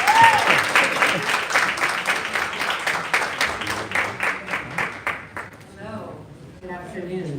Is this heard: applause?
yes